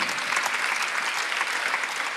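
Steady, enthusiastic applause from a large church congregation during a Sunday service fills the room, dense clapping without pause throughout.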